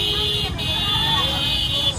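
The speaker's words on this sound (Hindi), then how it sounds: "सिर्फ शोर ही शोर और हॉर्न ही हॉर्न।" Busy street traffic with car horns during a crowded Holi outing, engines and honking blending into a continuous near din, with a sustained horn-like tone running through most of the two seconds.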